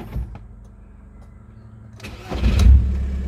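A diesel VW Golf 4 engine cranks briefly and starts after a fuel filter change, catching with a low rumble that settles into a steady idle, with no talking.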